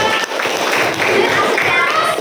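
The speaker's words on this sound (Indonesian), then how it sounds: "Beri tepuk tangan." A sixth-grade class at an elementary school claps together, a dense, steady patter of many small hands filling the room for about two seconds.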